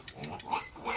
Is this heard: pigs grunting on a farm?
yes